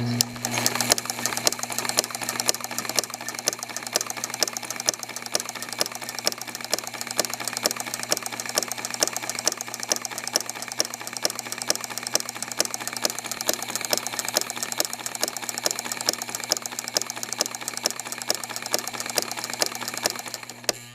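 Treadle sewing machine with a flower foot stitching through a previously quilted rag quilt square, a steady fast mechanical whir and clatter running continuously and fairly quiet at close range, with no speech.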